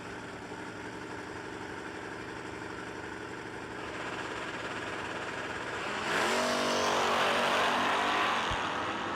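Drag race cars at a no-delay nationals event, a Chevy-powered Toyota against a Chevette, idle and rumble in the lanes, then one engine swells into a loud revving roar near the end.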